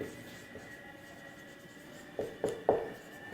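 Chalk or marker writing on a board during a Hindi-language class 12 physics lecture on charge quantisation, a few short scratchy strokes near the end over a quiet room.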